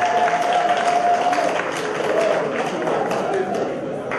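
An audience at an association's first official outing in Paris applauds, a dense, steady wash of clapping that holds at an even level throughout.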